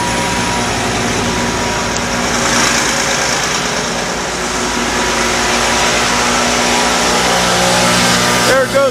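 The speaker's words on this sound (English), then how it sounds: "Basically like an air compressor, it'll blow air." A truck-mounted blower pumps air through a hose into a flour trailer during unloading, a loud, steady mechanical roar and whine that runs without a break from start to finish, with a brief clatter at the very end.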